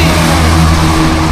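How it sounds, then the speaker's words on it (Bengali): Cars go by on the road below, near the 300 feet road area. A steady, loud engine roar holds throughout with no pause and no talk. "এখানে নিচ দিয়ে গাড়ি যায়"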